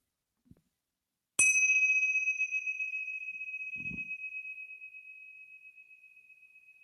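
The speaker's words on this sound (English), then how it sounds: "I'm closing this practice with the sound of the bell." A single bell struck to end a mindfulness session rings out as one clear, bright tone that sustains and slowly decays for several seconds, with a soft thump and faint shuffle in the quiet room.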